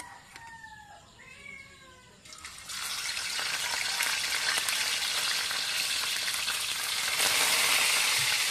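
Spam hits a hot pan and settles into a loud, steady sizzle close by, after a cat meows a few times at the start.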